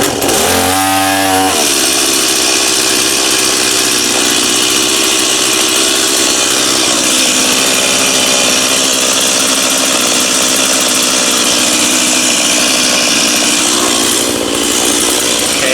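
A chainsaw engine starts with a brief sputter and then runs steadily, very loud and close, in a constant high-pitched buzzing idle that holds for the whole stretch.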